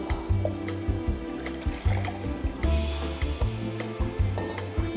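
Thin coconut milk sloshes and splashes into a pot of purple sweet potato, with scraping and stirring sounds of a utensil against cookware, close and steady.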